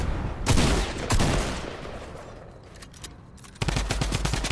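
A drum gun firing in a video game, rapid automatic bursts loud and close, with a pause in the middle before a dense, sustained volley resumes at the end.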